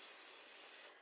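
A short, close burst of avocado oil sprayed onto dough, a bright steady hiss lasting about a second before cutting off.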